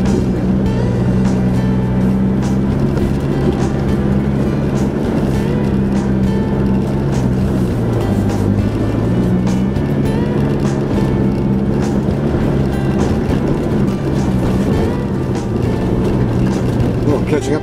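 A 4WD vehicle climbing off-road up a rocky ledge on a bush track at Billy Goat Bluff, its engine droning steadily and shifting pitch under load, with people talking over it.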